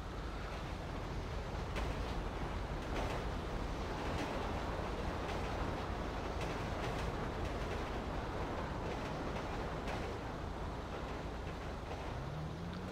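A train rumbles past a level crossing in GTA V, a steady loud wash of rolling wheels and engine noise filling the whole stretch with scattered clacks, with no talking.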